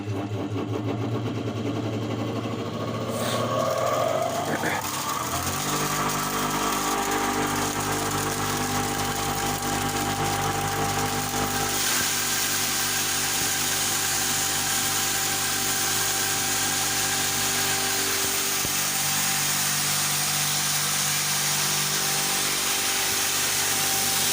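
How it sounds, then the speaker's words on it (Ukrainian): Homemade 220 V electric grain crusher starts up and then runs steadily, mixing corn waste and peas, with a constant loud mechanical whir and grinding that continues throughout without any talk. "дробілка в нас на 220, саморобна, але гарно працює"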